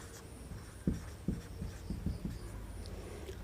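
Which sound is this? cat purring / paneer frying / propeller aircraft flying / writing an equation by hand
writing an equation by hand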